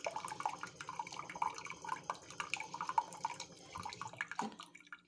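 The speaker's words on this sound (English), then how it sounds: "you can deliver water from here to dilute if the tea is too strong" Water drips from the dispenser of a G Pro tea machine in a run of small, quiet, irregular drops, with faint ambient hum behind them.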